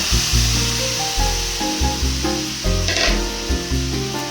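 Marinated chicken sizzles loudly in a pan with spices while being stirred, a close, continuous frying crackle with periodic scraping stirs, over light background music.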